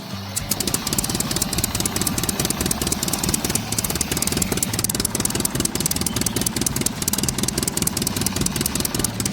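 A tractor's heavy engine chugs at a steady idle, its rapid, even putter continuing loud and unbroken with no voices.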